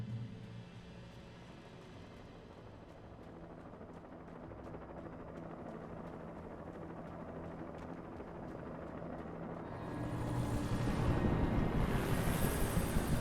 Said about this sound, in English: Freaking helicopter.